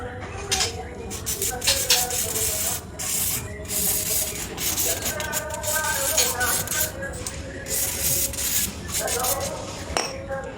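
A car spark plug from a Grand Livina tune-up is cleaned with engine cleaner, giving close scrubbing and rubbing scrapes in irregular bursts. Short spray-like hisses and light metallic clinks mix in, and a voice talks at times.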